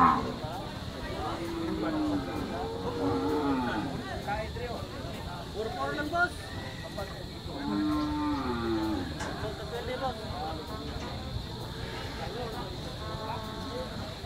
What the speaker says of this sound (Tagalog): Kalabaw.